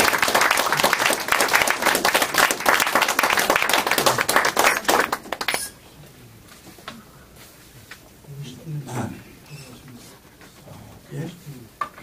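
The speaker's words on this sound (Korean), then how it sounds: "우리 건국 대통령을 위해서 한번 박수로." An audience applauds a speaker at a lecture honoring Korea's founding president, a dense burst of clapping for about five seconds that then stops abruptly, leaving a quiet room with faint murmurs and shuffling.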